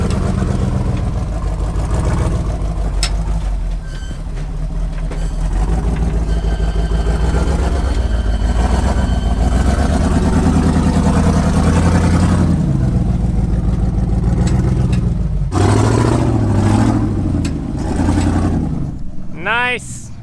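A Jeep engine revs hard and continuously while mudding off-road in East Tennessee, a loud close roar with rising and falling pitch sustained throughout, and a voice briefly heard near the end.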